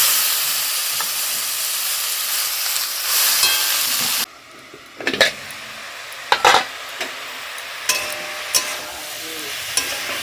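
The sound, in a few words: cabbage ghonto cooking in a pan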